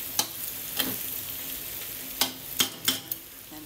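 Ground meat sautés in oil in a pan, a steady soft sizzle broken by a few sharp utensil scrapes and stirring clacks, close and with no talking.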